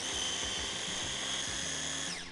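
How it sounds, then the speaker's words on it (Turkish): A food processor grinds biscuits and hazelnuts with a steady high-pitched whirring drone and faint rattling of pieces inside, running continuously at close range. "Üzerine hemen fındıklarımı ekledim ve rondomu son kez çalıştırıyorum."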